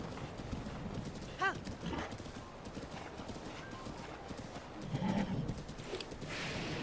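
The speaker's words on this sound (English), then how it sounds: "I got the big black horse, and now we can ride around the countryside" The hooves of a big black horse in The Legend of Zelda: Breath of the Wild clip-clop steadily and softly as it is ridden across open countryside.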